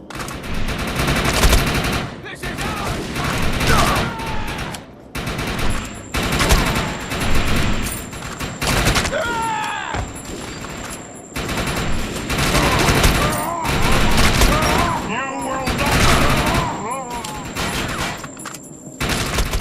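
Loud, nearly continuous automatic gunfire in ARK as shots pour into a thorium reactor, with dense overlapping bursts and a few brief pauses, while voices talk over the shooting.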